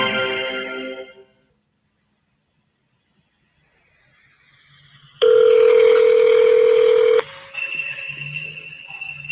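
A recorded jail phone call from the Orange County Correctional Center begins with a brief burst of noise, then near silence. A loud, steady telephone tone follows for about two seconds, then a fainter, higher tone with faint background noise.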